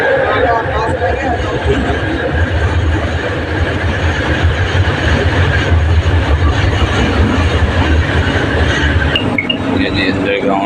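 Metro train standing at an underground station in Kuala Lumpur, giving a loud, steady rumble and whine that fills the whole stretch, with a person talking over it.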